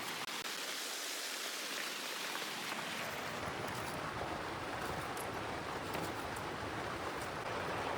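Heavy rain pours down in the Maredumilli forest as a continuous, even hiss and roar that fills the scene without a break, close and enveloping, with no talking heard.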